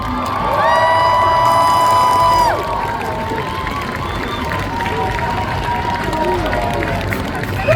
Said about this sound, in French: d'applaudir très très fort